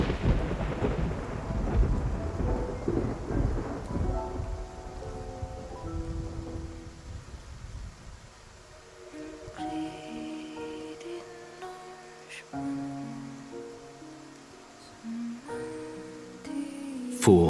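A heavy thunderstorm at sea in a dramatic scene: a long rolling rumble of thunder over steady rain, easing into quieter rain while soft music swells and a few sharp cracks break through near the end.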